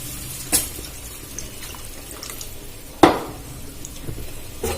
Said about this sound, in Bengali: মশলাটা খুব ভালো মতো কষানো হয়ে গেছে, দিয়ে দেব জল।